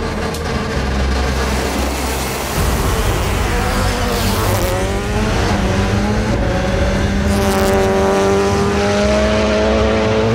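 A race car launches at the Mt. Washington Climb to the Clouds hill climb, its engine loud and near, idling roughly before revving hard and climbing in pitch through repeated rising surges.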